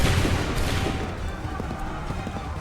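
A massed musket volley rings out in a colonial-era battle in Assassin's Creed 3, a dense burst of overlapping shots at the start that trails into rolling crackle and echo, with faint shouting underneath.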